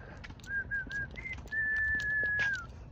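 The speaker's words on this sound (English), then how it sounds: "I haven't heard that bird sound in a while" A bird calls with clear whistled notes, a few short chirps followed by one long sustained whistle, fairly close against a soft background hum, with no talking.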